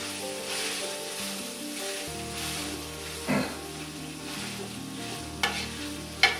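Chili ingredients sizzling in a pot while being stirred, a soft continuous frying hiss with occasional scraping knocks of the spoon, fairly quiet and steady.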